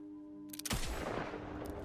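A gunshot in the video game Borderlands 3, a sharp loud crack that cuts through a humming background tone and leaves a rumbling tail.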